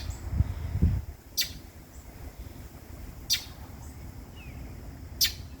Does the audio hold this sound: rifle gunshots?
no